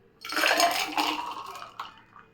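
Mocktail ingredients poured from a shaker into a tall glass make a loud, bright splashing gush that tapers into a gentler trickle with faint clinks near the end.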